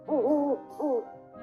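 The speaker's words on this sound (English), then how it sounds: "All was silent, save for the hooting of an owl in the distance." Owl hooting, two soft wavering hoots in quick succession, clear and alone against a quiet background.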